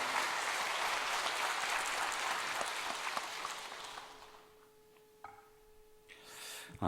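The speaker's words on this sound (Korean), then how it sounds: "격려 박수 한 번 더 하겠습니다" Church congregation clapping for a small choir at a Korean early-morning prayer service, a steady applause for about four seconds that fades into quiet room tone with a few knocks and a brief hum.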